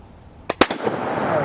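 A rifle fires a single French post-WW2 30-06 FMJ ball round outdoors: a sharp, loud crack with a quick double report, followed by a fading rumble.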